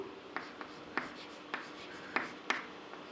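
Sparse, irregular keystrokes on a computer keyboard while a Python prompt is being typed: about eight crisp, close taps spread over a few seconds, with no talking.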